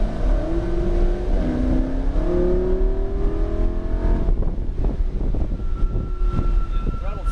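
A Lamborghini engine revving while driving, a loud nearby roar with rising pitch sweeps as the throttle opens, then settling into a rougher drone, with brief talking underneath.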